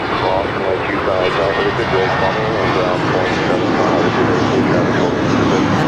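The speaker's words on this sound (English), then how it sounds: "413 heading to Phoenix on an A319." American Airlines Airbus A319 jet airliner at LAX, a loud, continuous roar of jet engines close by, with voices talking over it.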